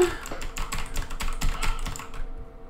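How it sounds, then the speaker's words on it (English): Fast, irregular keystrokes rattle on a PC computer keyboard during gameplay, close and crisp, in a dense burst of clicks that stops abruptly near the end. "My fingers get all jumbled on the keyboard."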